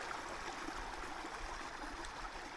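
A brook in Vermont woods flows steadily with a soft, continuous babbling rush, fairly faint and distant, with no talk over it.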